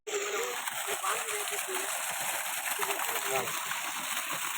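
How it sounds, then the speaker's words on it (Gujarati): Water gushes steadily from a borewell driven by a 5 HP motor pump, making a continuous splashing roar outdoors while people speak over it. "5 ની મોટર ધોમ કાઢે પાણી"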